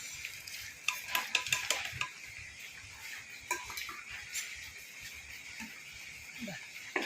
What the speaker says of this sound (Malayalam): കടുക് വറുത്തതങ്ങ് ഒഴിച്ച് കൊടുക്കാം.